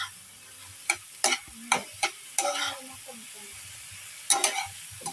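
Dabong being mixed with sardines in a pan, with sharp spoon scrapes and clanks in short bursts over a faint low sizzle.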